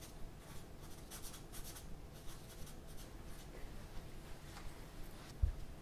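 A pen sketches a diagram by hand, with faint scratchy strokes in short bursts and rubbing at steady low volume, close by and without talk.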